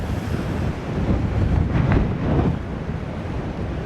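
Rough, stormy sea at M'Scala, Malta, waves crashing and surging beneath strong wind buffeting the microphone, a loud continuous roar with a brief swell in the middle.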